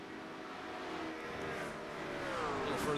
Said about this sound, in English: Logjam of cars, as we've got LMP2s, GT3s, everyone trying to work their way through.